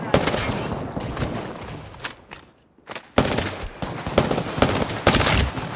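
Rapid bursts of automatic weapon fire in the shooter game Apex Legends, loud and close, pausing briefly in the middle before resuming in sharp volleys.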